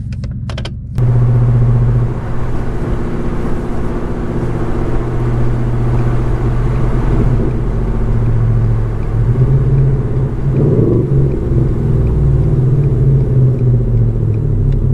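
A Ford F-150 pickup in sport mode pulls out, its engine starting with a click then settling into a loud steady rumble inside the cab, with pitch shifts and a brief rev blip around rev-matched downshifts.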